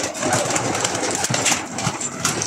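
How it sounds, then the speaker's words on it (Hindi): Large white pigeons in a pigeon room coo softly, with a low murmur of overlapping birds close by and a steady background hum. "बहुत बड़े बड़े कबूतर हैं"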